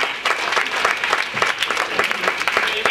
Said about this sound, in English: How about another round of applause for John Peasy and Andy?